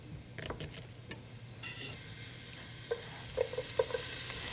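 Shallots sauté in a pan for steamed mussels with white wine, giving a soft steady sizzle with scattered stirring clicks and scrapes, rising slightly toward the end, no talking.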